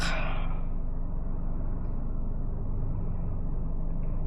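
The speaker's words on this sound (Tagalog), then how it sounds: "Truck." A truck passes close by with a loud low rumble, a brief hissing rush at the start and then a steady engine drone that continues to the end.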